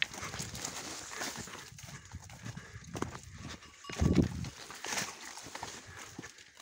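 A cow walking, with uneven hoof thuds and clopping on the ground, close by, plus scattered rustling and movement noises.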